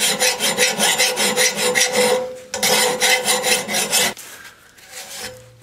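A file rasps against the rough casting along a Murray lawn mower blade edge in quick, rhythmic back-and-forth strokes, two close bursts separated by a brief pause, then softer scraping.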